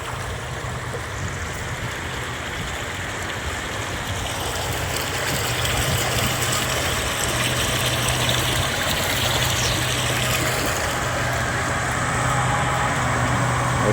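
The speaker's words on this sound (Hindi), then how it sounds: "और ट्यूबवेल भी जो है ना ये चल रहा है, और पानी जो है ना इन्होंने अपनी ज़मीन को लगाया हुआ है।" Tubewell pump running outdoors on farmland, its water pouring out in a steady broadband rush with a low mechanical hum beneath, continuous and fairly loud, with no one talking.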